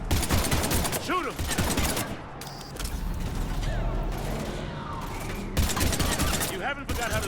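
Gunfire in the Mass Effect 3 video game, loud bursts of shots and mechanical clatter during a chaotic battle against husks, with voices shouting over the fighting.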